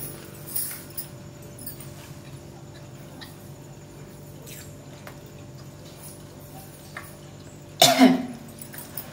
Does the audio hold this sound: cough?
yes